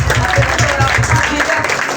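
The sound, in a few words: congregation applause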